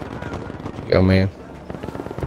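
A short burst of automatic gunfire in Battlefield V, loud and close, lasting about a third of a second amid background game noise and faint talk.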